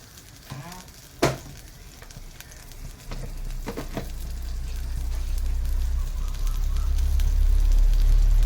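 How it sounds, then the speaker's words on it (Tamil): Mustard seeds and urad dal sputtering in hot oil: scattered sharp pops and crackles at first, then a sizzling roar that swells louder toward the end, heard close with no speech. "கடுகு உளுந்தம் பருப்பு பொரியட்டும்."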